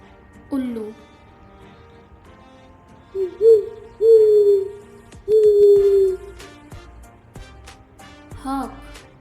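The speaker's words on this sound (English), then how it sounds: "Owl," An owl gives several low, drawn-out hoots spaced a second or two apart, loud and close, with a brief higher call near the end.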